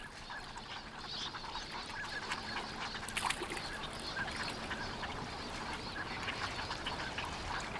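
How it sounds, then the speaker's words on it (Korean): Migratory ducks on Bamseom island in the Han River, Seoul, keep up a dense, continuous chorus of quacks and honks. A steady flock murmur holds through the whole stretch, with no voices. "밤섬은 다시 철새들의 세상이 된다."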